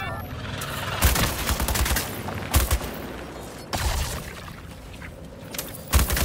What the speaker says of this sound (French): Tire de barrage sur Queen!